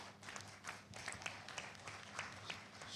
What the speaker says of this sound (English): Let's give them another applause.